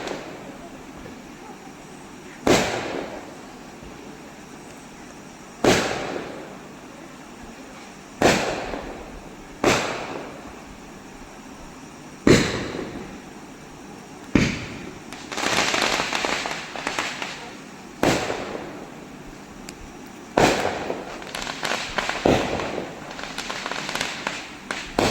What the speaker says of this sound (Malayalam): അപ്പുറത്തൊക്കെ പടക്കം പൊട്ടിക്കാൻ തുടങ്ങി